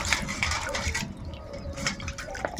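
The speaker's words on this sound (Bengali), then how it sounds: "ভালো করে ধুয়ে নেব।" Eggs being washed in water make splashing, dripping and trickling sounds close by, with soft clunks of the shells knocking together.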